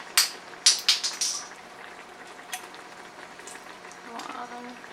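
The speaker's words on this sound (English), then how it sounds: "let this simmer a bit more" A vegan strawberry topping with lemon and vanilla extract simmers in a pan, opening with several sharp close clinks of a utensil against the pan and then settling into a low, steady bubbling hiss.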